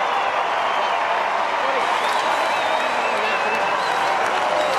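Stadium crowd at an AFL night match at Metricon Stadium, Gold Coast versus Hawthorn, roaring and applauding in a steady, dense wash of cheering and clapping that holds without a break.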